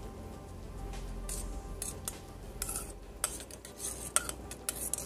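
Yeast being stirred into lukewarm water in a bowl for homemade white bread, heard as scattered light spoon clinks and soft scrapes over a low, steady background hum, with no talking.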